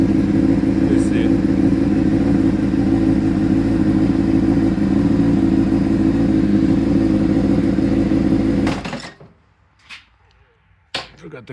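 Honda CBR600RR motorcycle idling in neutral, a loud close steady engine rumble with throbbing low firing pulses that cuts off after about nine seconds, followed by near silence with a few faint clicks and handling noises.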